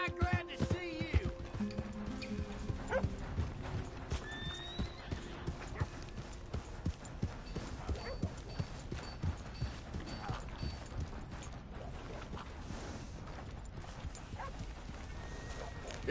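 Horse hooves clip-clopping in a PS4 video game, a steady, fairly faint patter of steps running throughout under game ambience and music, with a short whinny-like tone near the start.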